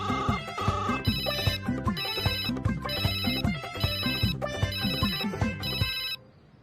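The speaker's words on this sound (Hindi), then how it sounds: "लो घंटी जा रही।" A telephone rings loudly in repeated electronic bursts over a melodic ringtone pattern, five or six regular cycles, then cuts off near the end; no one talks.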